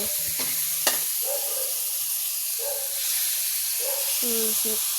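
Food sizzling in a hot pan, a steady bright hiss running throughout, with scattered clinks of a utensil and short bursts of voices and household noise over it.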